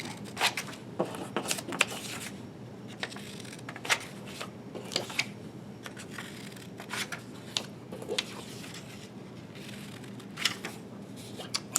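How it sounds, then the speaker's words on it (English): Quiet, close snipping and crinkling of scissors cutting paper, irregular clusters of sharp little cuts with rustling in between. "take our scissors and cut in the middle of the stem to each one"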